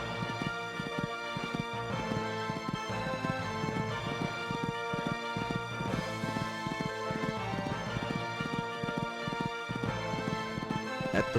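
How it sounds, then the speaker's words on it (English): Horse galloping over a cross-country course, steady rhythmic hoofbeats thudding on turf, continuous and fairly close, with a busy outdoor crowd and ambient noise underneath. "Going along at a good gallop."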